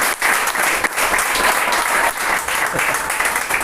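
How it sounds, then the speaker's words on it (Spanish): Sustained applause from a church congregation, many hands clapping in a full, even roar with small dips; a faint voice may surface briefly beneath the clapping. "Denle un fuerte aplauso al Señor, amén."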